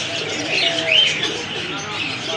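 Caged birds at a bird market in Faisalabad, including small doves, chirp and coo in a dense, continuous chorus at moderate distance, with a voice speaking over the birds.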